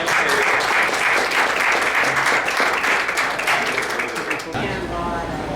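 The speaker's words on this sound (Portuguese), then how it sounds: "Vamos aplaudir." A church congregation at a Sunday service claps loudly and steadily, a dense wash of applause that fades near the end, with voices mixed in.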